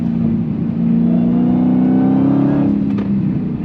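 A 2023 Dodge Challenger Black Ghost accelerating hard on throttle, a loud, close, steady engine drone rising gradually in pitch over a few seconds with no talk.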